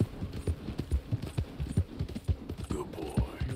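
Horse hooves clip-clop in Red Dead Redemption 2 in a quick, steady rhythm of soft, close thuds, with faint background game sound.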